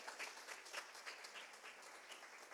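Congregation applauding during an evangelical church service, a dense steady wash of many hands clapping throughout, fairly close and even in loudness.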